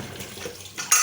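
Running tap water over dishes and pots in a kitchen sink, a soft flow that suddenly turns into a louder splash near the end, brief and close.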